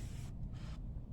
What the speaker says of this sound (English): I'm gonna grab that, spray these down, let it soak in for a few minutes